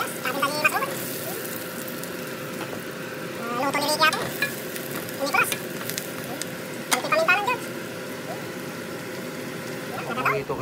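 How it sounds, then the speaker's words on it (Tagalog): Onions sautéing in a pan, a continuous soft sizzle with intermittent scraping stirs, a faint steady hum beneath, and a voice speaking at times. "Lutuin natin yung sibuyas."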